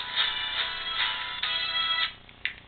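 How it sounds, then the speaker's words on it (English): A phone ringtone plays repeatedly in pulsing bursts, bright and fairly close, with a brief pause near the end before a final chirp. "Oh, my phone is ringing."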